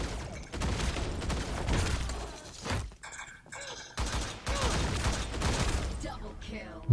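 Gunfire in the T3 Arena video game: dense bursts of rapid shots, loud and close, breaking off briefly before resuming, with a voice talking over parts of it.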